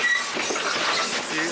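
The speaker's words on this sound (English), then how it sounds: "This train is long." A long Great Smoky Mountains Railroad train rumbles steadily past at close range, a continuous broadband roar of wheels on rails with no pauses.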